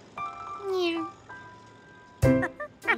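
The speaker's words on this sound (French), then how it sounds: "Et ce chat, il est à vous aussi?" A cat meows a few times close by, with a long drawn-out meow and then shorter cries, while a person talks briefly around them.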